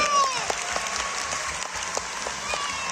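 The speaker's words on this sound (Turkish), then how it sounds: "Yarışı Yupi ve Jet kazandı diyenler alkışlasın." Children clapping together in a steady, brisk burst of applause, fairly near and even in level, with a few sharper individual claps standing out and a faint tone sweeping behind them.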